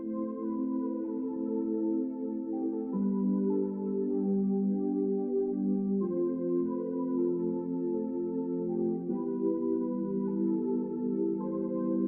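A hip-hop beat melody with sustained chords plays steadily and alone, a full layered instrumental with no voices and a few chord changes across the passage.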